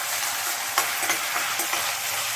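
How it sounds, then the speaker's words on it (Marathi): Ginger garlic paste sautés with onions in a pan, giving a steady close sizzle with a handful of soft scraping stirs spaced across the short stretch. "2 मिनिट आलं लसूण पेस्ट परतून घेऊया"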